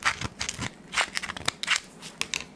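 A no-bake icebox pie crust being cut, giving a few short crackly, crunching bursts close up with quieter gaps between them and no talk.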